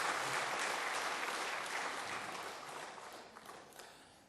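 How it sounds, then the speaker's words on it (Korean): A church congregation bursts into warm applause during a Sunday service, a full, dense clapping roar that starts strong and gradually thins and fades toward the end. "그런 사람은 박수 쳐줘야 돼."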